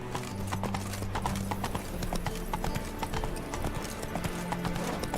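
Roach, Geralt's horse in The Witcher 3: Wild Hunt, trots with steady rhythmic hoof clip-clops on a road, backed by game ambience and music, with faint background voices.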